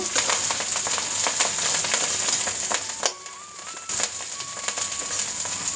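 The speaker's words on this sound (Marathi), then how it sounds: "आता ही भाजी कढईमध्ये परतून घ्यायची." Chopped chickpea leaves sautéing in a kadhai, a close crackling sizzle with intermittent stirring scrapes and a brief quieter dip midway, while a faint tonal whine sounds in the background.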